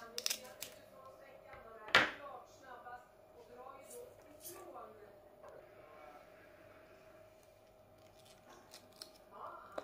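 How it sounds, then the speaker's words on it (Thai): Scissors snip through an apple to shape a small floating offering, giving one crisp cut among soft handling noises while someone talks over the work. "ใส่กรรไกรตัดจ้ะ"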